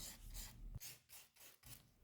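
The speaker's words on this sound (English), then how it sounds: "I bought this sanding paper, a very thin one, and I sanded down the whole canvas so that the surface became smooth" Very fine sandpaper rubbed over an oil painting canvas: quiet, close rasping strokes in a steady back-and-forth rhythm, about five passes in two seconds, with no voices.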